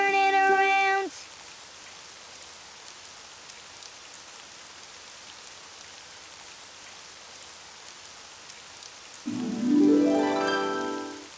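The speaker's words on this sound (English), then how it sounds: "it's raining outside." Steady rain patters outside in a soft, constant hiss, broken at the start and end by brief bursts of other louder sounds.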